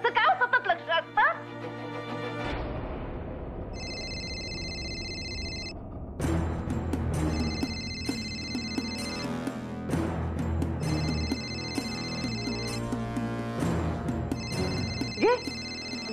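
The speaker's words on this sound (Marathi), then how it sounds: "घे घे, मुक्ताचा फोन आहे." A telephone rings in repeated bursts of bright electronic tones inside a domestic scene from a Marathi TV serial, sounding over music and background voices.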